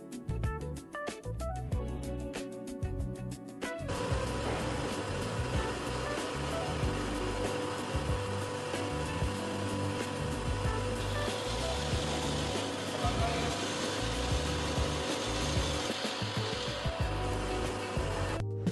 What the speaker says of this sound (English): We then shifted to the drill press to execute the core holes.